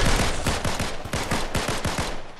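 Gunfire in the video game Fortnite: a close, loud string of rapid shots fired in quick rhythmic bursts, with no voices over it.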